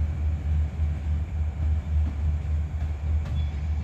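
A long night train passes at Surat Thani station in southern Thailand, its wheels rumbling and clacking steadily and loudly nearby over a continuous low drone.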